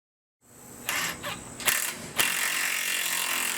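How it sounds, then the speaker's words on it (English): A ratchet tightens a bolt through the limit strap on a Dodge 4x4 off-road build, giving a few quick mechanical clicking bursts up close, then a steadier rasping ratchet run, with no talking. "I'm going to go ahead and throw a bolt through that limit strap"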